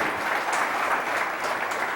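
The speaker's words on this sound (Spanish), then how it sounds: "démosle un aplauso al Señor." A church congregation applauding during a Spanish-language sermon, dense steady clapping from a crowd filling the room for the full two seconds.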